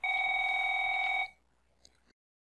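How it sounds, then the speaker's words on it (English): The Classic Tone 1 ringtone from an Avaya J179 desk phone, a steady bright electronic trill ringing clearly for about a second before cutting off into near silence. "The default is Classic Tone 1."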